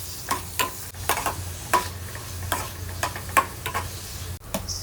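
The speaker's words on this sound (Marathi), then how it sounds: "कांदो ऍड करून जाले काय बरो गोल्डन ब्रावन जायसर भाजून घेवपाचो" Onions frying in oil toward golden brown for a Goan chicken xacuti, a soft steady sizzle broken by regular stirring strokes, close and moderately quiet with no talk.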